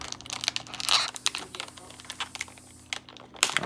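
Opening packaging on a G.I. Joe Stalker action figure with taped-in weapons: quick, close crinkles and clicky, tapping pulls of tape and plastic in an irregular rhythm, with no talk.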